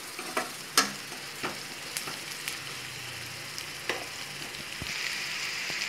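Onions and crushed garlic sautéing in a pan, with a soft continuous sizzle punctuated by intermittent scrapes and taps of a spatula and a brief louder hiss near the end.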